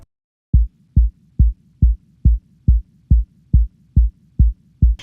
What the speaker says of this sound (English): The first kick is playing every beat and it sounds like this.